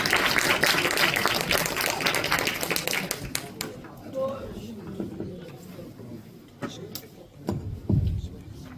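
An audience at a university rehabilitation department's academic festival applauds a fourth-year student presenter. The clapping is dense and fairly loud for about three seconds, then thins out and fades under scattered voices and a few isolated taps.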